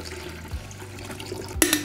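Water is poured into the reservoir of a coffee maker, a short splashing trickle close by that ends in a brief brighter gush.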